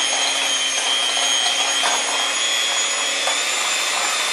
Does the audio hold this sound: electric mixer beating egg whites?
yes